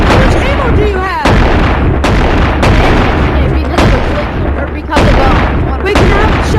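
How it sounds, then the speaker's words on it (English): Shotguns fire in the video game Animal Company: loud, sharp blasts repeat roughly every second over a busy mix of game noise, with players' voices partly under the shots. "I'm in a battle of shotguns right now."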